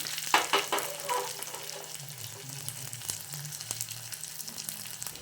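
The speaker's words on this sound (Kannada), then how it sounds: "ಈರುಳ್ಳಿ ಸೇರಿಸ್ಕೊತಾ ಇದ್ದೀನಿ. ಕರಿಬೇವು, ಇದೆಲ್ಲ ಆಯಿಲಲ್ಲಿ ಚೆನ್ನಾಗಿ ಫ್ರೈ ಆಗಬೇಕು." Onions and curry leaves fry in hot oil for a vegetable sambar, giving a soft, steady sizzle broken by a few sharper crackles and stirring scrapes near the start, with no voices.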